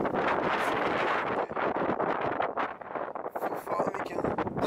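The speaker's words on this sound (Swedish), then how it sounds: "det är fucking storm ute. Fan alltså, det blåser åt helvete" Strong storm wind roars outdoors, buffeting the microphone in loud, continuous gusts with brief lulls, while someone speaks under the noise.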